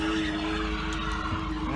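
A Camaro engine with rod knock holds a loud, steady high-rev drone, close and continuous for a brief stretch, with no voices.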